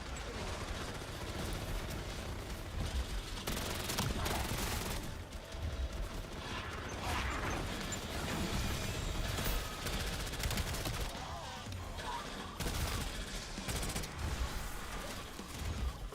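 Shotgun fire in the online game Tower of Fantasy: a string of sharp, fairly quiet blasts repeating irregularly over the battle soundscape, with a faint voice now and then.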